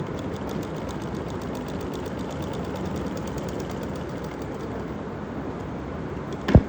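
Stitching a trouser waistband, a sewing machine hums in an even, continuous motor drone with a faint rapid needle patter, fairly quiet, ending in a single sharp click.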